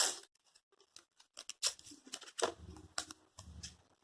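Tape is pulled off a roll and pressed onto a painting in a quiet room, giving a close series of short crackling rips and soft sticky taps, irregular and separated by brief silences.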